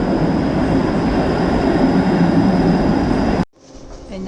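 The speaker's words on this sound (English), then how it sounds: "And here comes the streetcar, 509 Harbourfront to Union Station." A loud, steady rumble of a Toronto 509 Harbourfront streetcar rolling close by, cutting off abruptly near the end to quieter surroundings.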